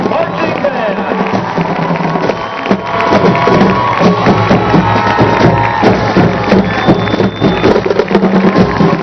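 A crowd at a high school football game applauds and cheers for the marching band, dense clapping and shouting throughout, loud and close, with an announcer's voice over it.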